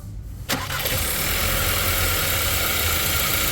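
An Audi Q3 engine cranks and starts after its injector line was replaced, catching with a sharp burst and settling into a steady, loud idle that runs on without any talk.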